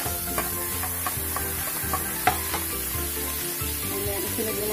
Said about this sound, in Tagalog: ilagay na natin ang ating sibuyas.